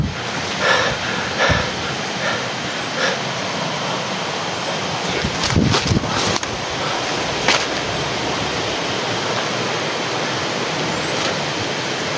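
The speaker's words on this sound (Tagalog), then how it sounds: "Malakas ng alon." Strong surf pounding a shore, a steady broadband wash with several louder breaking surges, close and continuous with no talk.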